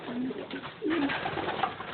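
Racing pigeons coo softly in low, rolling calls close by, with several birds overlapping in a quiet, enclosed loft.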